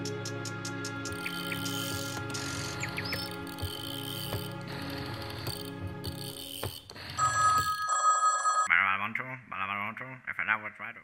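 A faulty telephone rings in an animated cartoon with steady, buzzy tones and a warbling chime over a musical background, followed by a voice speaking near the end.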